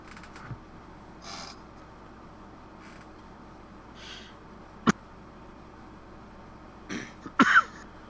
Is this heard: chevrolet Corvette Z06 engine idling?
no